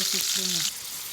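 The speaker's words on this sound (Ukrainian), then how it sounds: "Зараз його обсмажимо з кожного боку, з кожної сторони" Meat sizzles in hot oil in a pan, a steady close frying hiss under a voice that stops partway, the sizzle continuing more quietly alone.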